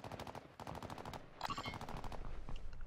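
Rapid automatic gunfire in Call of Duty Warzone 2.0, a fast rhythmic string of shots that keeps rattling throughout, fairly quiet and distant-sounding, with a brief brighter burst midway and no talking.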